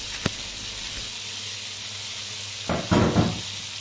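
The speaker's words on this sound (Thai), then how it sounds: "ต่อมาก็ใส่หมูลงไปผัดเลยค่ะ" Pork sizzles as it is stir-fried in a hot pan, a steady frying hiss under a faint hum, then a few scraping stirs of the spatula near the end, close and moderately loud.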